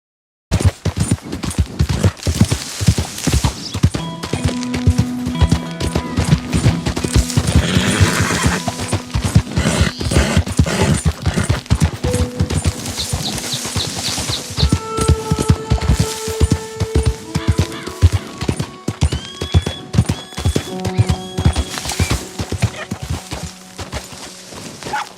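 Horse galloping in the video game Red Dead Redemption 2, a steady fast clip-clop of hooves throughout with whinnies and neighs, some tack jingling and occasional distant gunfire in the background.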